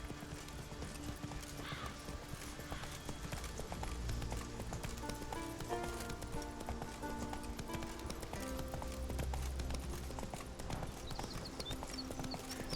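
Roach the horse clip-clops along at a steady gait in the Witcher 3 video game, the hooves tapping on over background game music and ambience, with a faint whinny.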